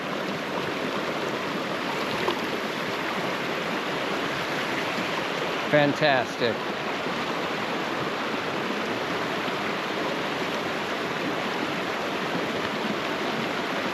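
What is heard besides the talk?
flowing creek water, Brice Creek, Oregon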